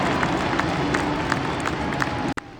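A supercross stadium crowd at Glendale cheers for a rider's whip jump, a dense, steady roar with scattered claps and shouts, cutting off abruptly near the end.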